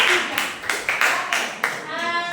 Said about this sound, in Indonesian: kita tepuk tangan untuk kelompok 3